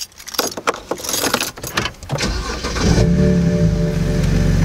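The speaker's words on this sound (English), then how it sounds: "Let me go ahead and start up the car" A BMW 330i cranks briefly and starts, after a jangle of keys and some handling noises, then settles into a steady, close idle.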